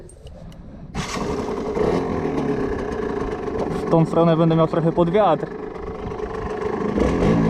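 A Yamaha TDR 125 two-stroke motorcycle accelerates hard on a road, its engine rising through climbing revs with gear changes, loud and close behind a rider speaking into the wind.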